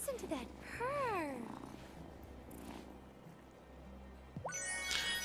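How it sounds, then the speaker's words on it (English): A cat in the game Wylde Flowers purrs, a low, steady rumble beneath brief chirping and tonal game sounds, with a voice faintly present at moments. "Listen to that purr."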